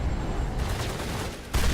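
A rapid burst of weapon fire from the video game Mass Effect 1 fills the clip with dense, loud crackling shots, ending in a sharper, heavier blast near the close.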